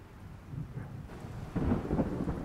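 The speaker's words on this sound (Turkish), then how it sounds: "Yağmur mu yağıyor sanki?" A rumble of thunder rolls through steady rain at night, the low roar swelling louder partway through the short stretch without any voices.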